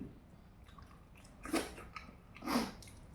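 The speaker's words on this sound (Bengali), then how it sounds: "এবার খেয়ে নিলাম ওল চিংড়ি, দেশি ওল আর চিংড়ি।" Two soft, moist chewing bursts about a second apart, close to the mouth, with no talking, as someone eats a dish of local elephant foot yam cooked with prawns.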